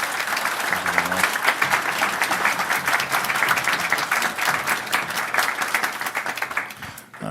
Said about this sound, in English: If you could please give them a round of applause for...